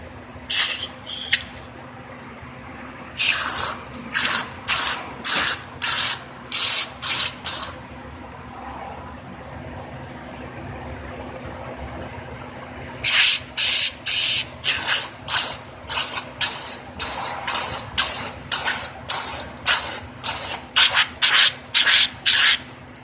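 Carburetor cleaner sprays in repeated short hissing bursts into the carburetor of a Craftsman lawn mower, model 917388113, loud and close, with a run of bursts, a pause, then another rapid series.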